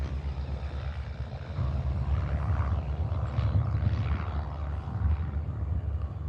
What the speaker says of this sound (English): Wow, that's a quick takeoff.